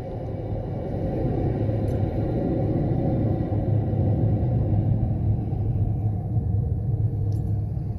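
Worn front brakes on a 2017 Kia Forte LX grind as the brakes are applied, making a steady, rough, low rumble that continues for about eight seconds with no one talking.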